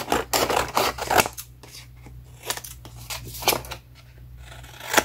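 Paper being cut with scissors for a scrapbook mini album, a series of sharp snipping strokes over about five seconds, close and fairly loud, with a low steady hum behind, no talking.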